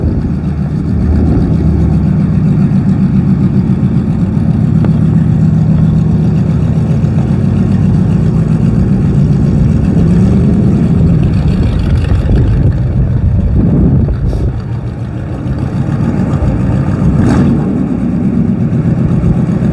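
A hotrod car engine runs loud and close while driving, holding a steady droning pitch, then rising and dipping as it revs and shifts gears, with a brief lull before pulling again.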